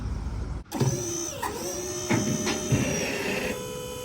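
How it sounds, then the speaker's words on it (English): An electric hydraulic lift motor runs with a steady whining hum and a high tonal drone, starting abruptly and shifting pitch slightly partway through, close and clear with no talking. "Somewhere along the line, it has a hydraulic lift on it. It goes like that."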